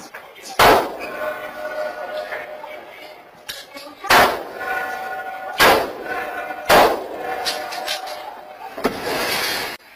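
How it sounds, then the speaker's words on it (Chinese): Handgun fired four times at a shop's door lock during a robbery, each shot a sharp loud crack with a metallic ringing echo off a sturdy door, spaced a second or two apart among clanks. "掏出手枪朝着门锁开了四枪"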